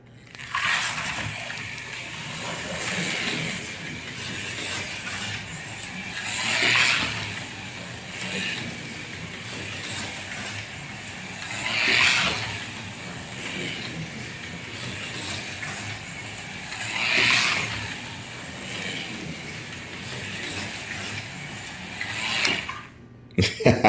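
A Revell Monogram Porsche 550 Spider model car runs with a plastic pinion gear, giving a steady whirring, grinding mechanical buzz that swells in periodic surges about every five seconds, close and continuous throughout.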